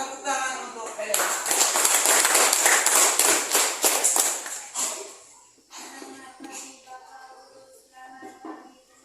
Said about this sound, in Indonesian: tepuk tangan untuk Helena.